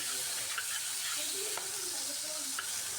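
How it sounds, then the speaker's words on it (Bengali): A continuous near sizzle of flat beans frying hard on a full gas flame, with occasional soft clicks of stirring and no talk. "গ্যাসের হিট ফুল রেখে শিমগুলোকে এইভাবে হালকা ভেজে নিচ্ছি"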